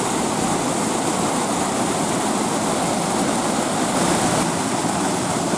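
A waterfall near the source of the Jérusalem River rushes as a constant, close, dense roar of falling water, steady from start to finish and with no one talking.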